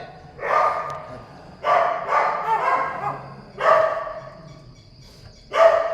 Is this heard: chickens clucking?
no